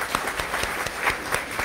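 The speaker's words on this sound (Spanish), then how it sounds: "vamos a darles un aplauso" Sparse, rhythmic clapping from a church congregation at a Corpus Christi Mass, celebrating birthdays. Distinct hand claps fall in a fairly regular beat, moderately close, with no talking.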